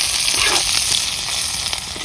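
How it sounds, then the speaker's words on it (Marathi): Bombay duck fish frying in oil in an iron pan gives a steady, close, loud sizzle with a dense hiss that holds evenly throughout, with no talking. "लोखंडाच्या तव्यात मस्तपैकी बोंबील तळून घ्यायचे रे."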